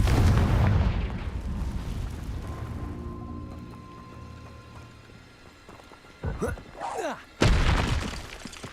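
Confringo spell blasts booming in Hogwarts Legacy on PS5: a loud burst at the start fades into a low rumble, then two sharp impacts land near the end, with a voice casting the spell over them.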